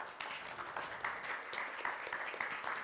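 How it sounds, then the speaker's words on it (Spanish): Audience applause after a talk on Pachakuti and the philosophy of history, steady soft clapping from a small crowd, fairly distant and even throughout. "un aplauso,"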